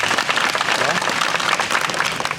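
Loud crowd applause at a gathering in a jail, dense, close clapping from many people running throughout the short stretch, with some voices mixed into the noise.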